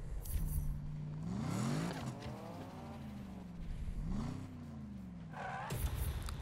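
Viper engine in Need for Speed on PS4, revving up through the gears with rising pitch sweeps, dropping between shifts, then climbing again, ending in a higher whine, close and fairly loud with no talking.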